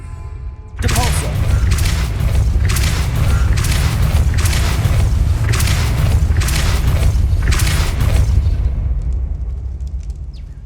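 A Depulso force spell cast in Hogwarts Legacy sets off a loud, close, sustained heavy rumble with a deep booming low end and rhythmic grinding bursts about once a second, running roughly ten seconds before easing off.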